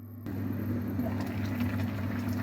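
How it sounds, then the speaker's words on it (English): Water at a rolling boil in a covered pot on a stovetop gives a steady bubbling rush over a constant low hum, close by and continuous. "that's definitely boiling"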